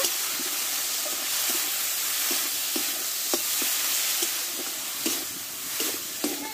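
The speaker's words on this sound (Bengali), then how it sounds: "স্বাদ মতো লবণ দিয়ে ভালো করে মশলাটা আমি কষে নেব" Masala with tomato and salt sizzling in a pan, a steady hiss of frying broken by soft intermittent scrapes and stirs, close and moderately quiet with no talk.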